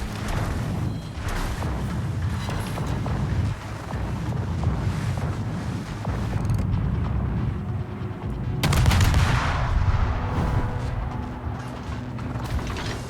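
Naval gunfire in the World of Warships video game, a steady loud roar of cannon blasts and rumbling wind noise sustained throughout, with a heavier surge of firing partway through.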